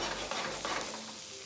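Asparagus cooking in a pan, giving a brief burst of steady frying sizzle with soft stirring scrapes, close and moderately loud, with no talking.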